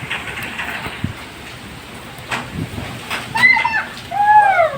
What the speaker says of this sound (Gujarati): વરસાદ ને વાવાઝોડું બાકા ઝીકી બોલાવે છે